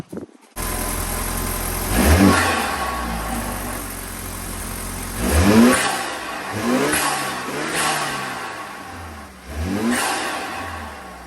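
A BMW 328i (F30) engine with a cold air intake idles, then revs sharply several times, each throaty surge climbing and dropping back, loud and close with a deep intake roar.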